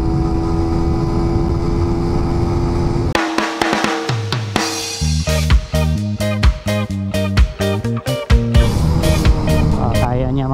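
A carbureted Suzuki Raider 150 motorcycle engine accelerates hard in fourth gear, loud and close, starting as a steady rising drone that then turns choppy and uneven, with a voice talking over it.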